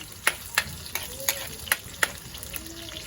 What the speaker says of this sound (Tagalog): So, gigisahin muna natin ng saglit.